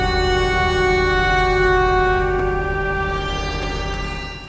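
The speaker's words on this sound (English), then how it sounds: "Just weird space noise." A sample-pack space noise effect with tremolo added: a sustained, eerie synthetic drone of steady stacked tones with a pulsing wobble, holding loud and alone before fading slightly at the end.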